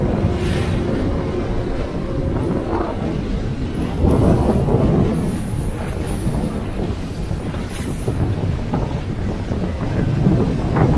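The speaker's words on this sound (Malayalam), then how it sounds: "ബോട്ട് പുറപ്പെടാനുള്ള പുറപ്പാടാണ്" A speedboat sets off on backwaters near an estuary between sea and lagoon, with a heavy, constant rumble of engine and rushing wind buffeting the microphone, loud and close.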